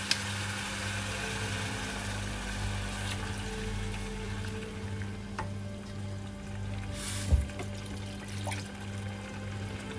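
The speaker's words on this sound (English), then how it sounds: "This water from the blender over here." Water from a blender poured into a cooking pot for blue rice and sambal, a steady liquid splash over a constant low kitchen hum, with one brief louder clatter near the end.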